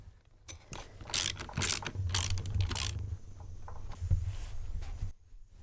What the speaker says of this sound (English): We put some dry ice into the tank and seal the tank.